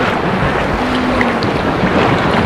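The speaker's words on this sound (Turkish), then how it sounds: "Yani bir gölün bu kadar dalgalı olması cidden şaşırtıcı ya." Choppy waves slap around a boat on a large lake during rain, a loud, close, continuous wash of water with heavy wind buffeting across the microphone.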